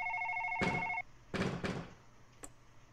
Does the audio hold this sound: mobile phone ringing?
yes